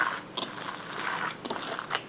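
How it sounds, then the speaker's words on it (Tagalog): A siomai meat mixture seasoned with liquid seasoning is stirred in a bowl, giving soft, close, wet squishing and scraping with occasional brief louder strokes. Nobody speaks. "haluin natin ulit mabuti yung ating siomai"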